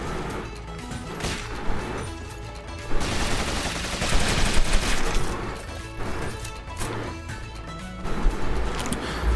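Repeated gunshots and impact crashes from the Rogue Legacy 2 video game play over game music, with irregular bursts of moderate loudness that grow denser around the middle.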